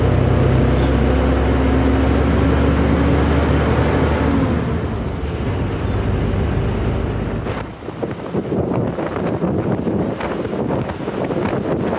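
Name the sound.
road traffic noise of cars and buses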